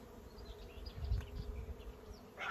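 Honeybees buzzing close by at a hive, a steady droning hum with individual insects rising and fading as they fly past; no voices.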